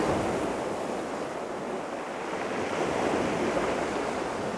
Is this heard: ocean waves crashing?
yes